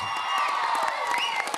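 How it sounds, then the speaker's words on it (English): An audience in a televised dance show cheers and whoops after a dance troupe's performance, bursts of shouting and scattered clapping rising over a lively crowd. "Round of applause, please."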